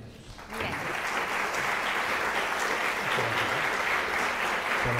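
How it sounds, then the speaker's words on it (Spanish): An audience at the Universidad Autónoma de Querétaro applauds guest speakers, a dense, sustained burst of many hands clapping that starts abruptly and stays loud and even throughout. "Me gustaría pedirles entonces un aplauso para ellos."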